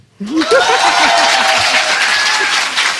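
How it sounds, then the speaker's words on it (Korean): Broadband clapping from a crowd fills the clip after a brief quiet start, with a few voices and chuckles mixed in beneath it. "박수."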